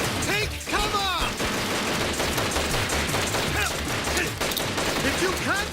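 Heavy gunfire from a shootout in the Street Fighter movie, loud and continuous with rapid bursts and crashes throughout, mixed with shouting voices.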